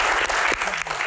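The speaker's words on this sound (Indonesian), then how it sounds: "Baik, tepuk tangan." Brief, dense applause from an audience at a disaster-management Q&A session with Indonesia's BNPB, steady clapping filling the room for about a second.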